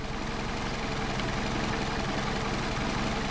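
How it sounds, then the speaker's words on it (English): A car engine idles steadily at about 550 rpm on an unmachined set of Harrison Solex carburetors, a constant low rumble heard close up and alone, with no voices. "you can see this idles very nicely at 550."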